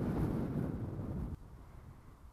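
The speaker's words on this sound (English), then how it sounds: "I've got to wait for that gust to go away." A wind gust outdoors at a model-aircraft flying field buffets the microphone with a loud, low rumbling roar, then cuts off abruptly partway through, leaving a quieter breezy background.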